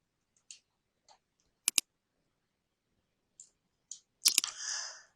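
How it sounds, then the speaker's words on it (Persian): Computer mouse clicks while working in Photoshop: a few isolated, sharp, close clicks spread across near silence, including a quick double click, ending in a brief burst of rustling handling noise. "اینجا یه کلیک میکنیم، این بهترین راه"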